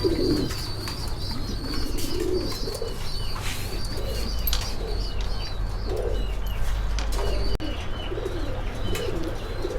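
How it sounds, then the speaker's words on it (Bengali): Pair of Humma pigeons at a pigeon farm, cooing repeatedly in low, soft phrases against a steady background hum, with scattered chirps and occasional wing flutters nearby. "তো এখানে আরেক জোড়া কবুতর দেখতে পাচ্ছি আমরা, হুমা কবুতর"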